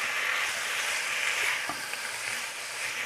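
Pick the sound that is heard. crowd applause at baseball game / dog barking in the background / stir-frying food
stir-frying food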